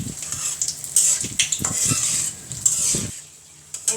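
Cardamom pods, cinnamon sticks and bay leaf fry in hot oil and are stirred continuously, making quick scraping strokes and light utensil clatter over a soft sizzle, then a brief pause near the end.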